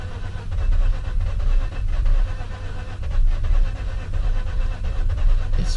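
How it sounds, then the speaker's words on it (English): A Mazda RX8 rotary engine cranks and struggles to start, a steady, rhythmic churning from the starter that goes on for several seconds with no other sound over it. "If this thing starts, I'm gonna be happy."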